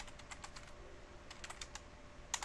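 Typing on a computer keyboard while entering network configuration commands: quick bursts of light clicking keystrokes, fairly close and clear, with short pauses between runs and a louder final key press.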